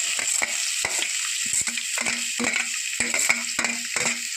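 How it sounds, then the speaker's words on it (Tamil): Onions sautéing in a pan with mustard and fenugreek seeds, giving a constant bright sizzle with repeated sharp spatula scrapes and taps at a quick, uneven rhythm, close and clear with no talking. "கடுகு பண்ணிட்டு வெங்காயம் போட்டுக்கிறேன்"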